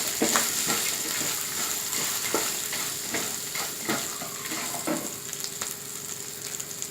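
An asafoetida tempering for a savoury rawa upma mix is stirred in a pan, with a soft continuous sizzle and scattered spoon clicks against the pan, fairly quiet and close.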